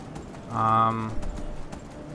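Horse hooves clip-clop at an Imperial camp in Skyrim, with irregular soft thuds around a brief voiced sound that may be a snort or someone talking.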